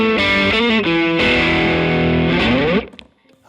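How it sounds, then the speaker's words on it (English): An electric guitar plays through an amplifier in a home recording studio, miked up. Loud, distorted chords ring out continuously for almost three seconds, then cut off and fade into quiet. "Now, let's bring in the guitar."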